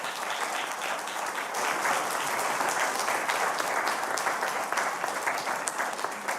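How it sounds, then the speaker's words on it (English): An audience at a panel discussion on children's mental health applauds the panelists, a moderately quiet, steady patter of many hands clapping for several seconds. "Let's give our panelists a round of applause."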